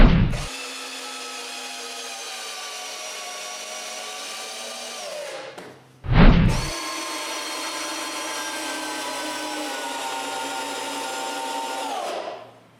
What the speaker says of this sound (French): Je mets donc les 3 visseuses en mode perceuse, puis je finis les 3 vis sans aucun problème.